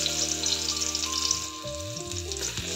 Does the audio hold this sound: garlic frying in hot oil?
yes